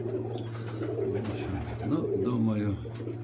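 Pigeons coo in a low, continuous murmur through a loft during molting season, steady and close, with a voice speaking briefly over them.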